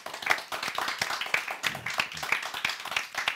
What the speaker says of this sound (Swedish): En applåd tycker jag.